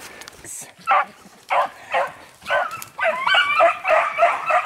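Hunting dogs in pursuit of a hare give a string of excited yelping barks, whines and bays, bursting at an irregular rhythm and growing more continuous toward the end, fairly close and loud.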